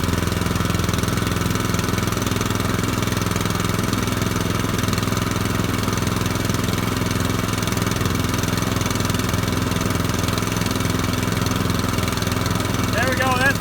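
A Harbor Freight trash pump's small engine runs just after starting on the first pull, a steady, close, rumbling putter that continues without a break, with a voice talking over it.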